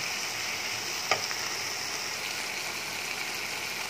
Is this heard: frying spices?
yes